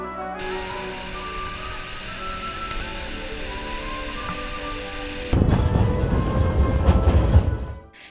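A tourist train at Iguazú Falls rumbles steadily along the track, a constant rolling roar that swells abruptly into a louder, heavier rattle near the end.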